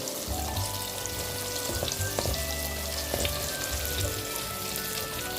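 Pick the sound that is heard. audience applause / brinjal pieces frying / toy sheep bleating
brinjal pieces frying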